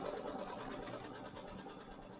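A sewing machine quilts loops on a small mini quilt, its steady, fast mechanical whir and needle chatter running continuously and close up with no pauses.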